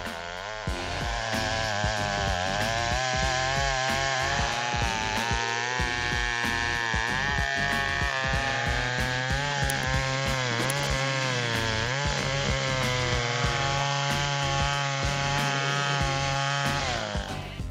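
A chainsaw bites steadily into a giant tree trunk nearly 70 years old on a farm, its engine loud and close, holding a continuous droning whine with slight shifts in pitch as the blade works through the wood.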